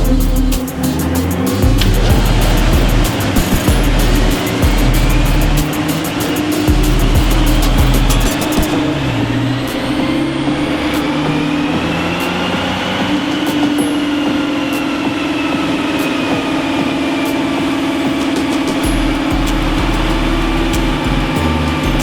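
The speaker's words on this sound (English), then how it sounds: "today we've got an Audi RS5 on the dyno" An Audi RS5 engine roars loudly and steadily on a dyno, a dense continuous drone whose pitch slowly climbs and shifts as the car runs, with no talk over it.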